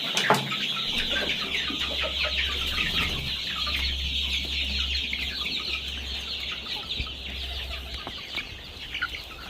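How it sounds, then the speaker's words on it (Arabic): A large flock of chickens and roosters on a poultry farm with around 500 birds, clucking continuously and loudly close by, a dense overlapping chorus with a steady low hum beneath and no talking. "ان شاء الله يطلعن معاي الدجاجات القديمات هن والديوك"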